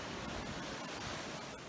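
Ocean waves by a boardwalk lined with palm trees make a broad, steady wash of surf, heard from a distance and unbroken, with no voices.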